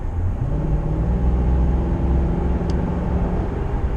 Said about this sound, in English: that little much just made this engine roar